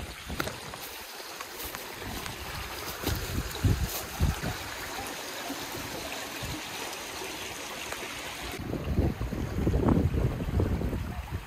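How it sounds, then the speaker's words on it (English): A small creek flows along a hiking trail, a steady soft watery rush with some wind, growing a little louder and fuller toward the end; no one speaks. "there is such a nice small creek."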